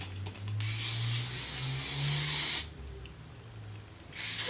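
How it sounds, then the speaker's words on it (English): Aerosol hair spray hissing in two steady bursts over freshly curled hair, the first long and loud, a pause, then a shorter burst starting at the end, with a low hum underneath. "One last spray."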